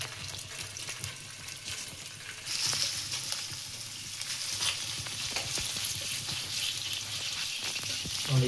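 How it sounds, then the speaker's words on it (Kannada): Paneer fries in hot oil in a pan on the stove, a continuous soft sizzle that grows livelier partway through, with occasional stirring scrapes and no speech. "ಈಗ ನಮ್ಮ ಪನ್ನೀರ್ನ ಫ್ರೈ ಮಾಡ್ಕೊಳ್ಳೋಣ. ನೀಟಾಗಿ ಫ್ರೈ ಮಾಡ್ಕೊಳ್ಳೋಣ."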